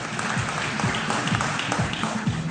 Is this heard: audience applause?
yes